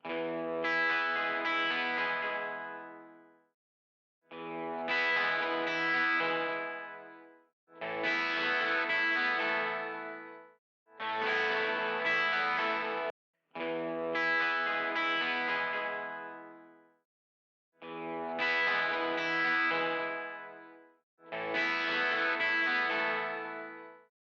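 A pair of 12-string electric guitars strums seven separate chord phrases with short gaps between them, bright and jangly with a chorus-like shimmer, while a slight EQ brightness boost lifts the top end partway through.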